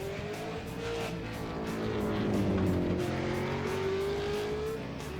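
V8 Supercars race cars circle a track during a 2016 Americas round, engines droning and revving steadily with a rising, sustained roar and occasional tire squeal, moderately distant with no talk.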